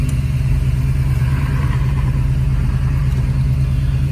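A restored 1970 Boss 302 Mustang V8 runs at a steady idle nearby, a loud, deep, even rumble that holds for several seconds with no voices over it.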